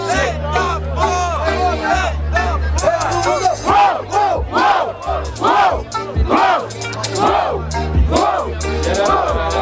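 A dense crowd roars and chants at the grand final of a Brazilian rap battle, Batalha da Aldeia in Barueri, loud rhythmic shouts and cheering swelling in waves throughout with voices blended into the noise.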